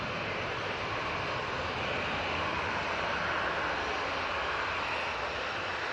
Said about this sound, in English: 737-800 is off to Marrakesh